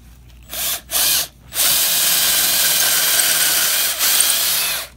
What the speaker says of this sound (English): Now she's using the concrete bit.